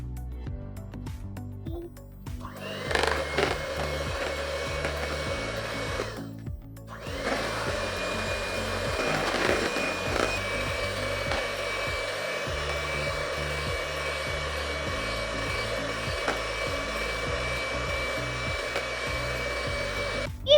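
An electric beater whirs loudly and close as it mixes a chocolate ice cream mixture with cocoa powder, pausing briefly once, then running steadily on.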